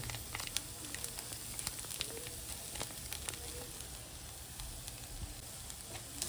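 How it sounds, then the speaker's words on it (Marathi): Crushed ginger and garlic fry in a pan for Kerala-style fried fish, producing a soft, steady sizzle with scattered crackles and pops, fairly faint and close. "आता याच्यात आलं लसूण घेतलेलं आहे चेचून, ते घालायचं."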